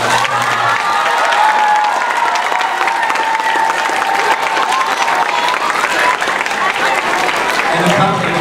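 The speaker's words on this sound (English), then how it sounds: "I just want to do a round of applause for Miss Davis." An audience at a school meeting applauds steadily and loudly for the whole stretch, with cheers and shouts rising from the crowd and a voice briefly heard at the start.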